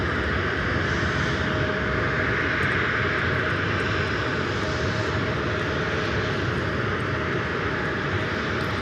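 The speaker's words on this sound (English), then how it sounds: "The next arrival is an American A319 coming in from West Palm Beach, flight" An American Airlines Airbus A319 arriving from West Palm Beach on approach to LAX gives a steady loud roar of jet engines throughout, with no talk over it.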